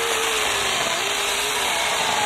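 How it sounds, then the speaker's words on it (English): A Teccpo 40v battery chainsaw cuts into a piece of white oak, a steady, loud, continuous whine and buzz of the motor and chain through the wood with a shifting pitch and no pauses. "what it does on a piece of white oak."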